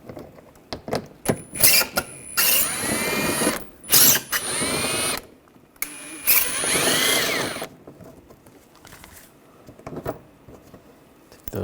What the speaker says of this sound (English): On the sides here, there's 3 screws. Take those out, use an 8mm socket.